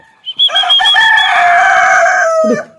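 A rooster on a farm lets out one loud, close cock-a-doodle-doo, a sustained strained crow lasting about two seconds and ending in a short throaty trail, with no talking.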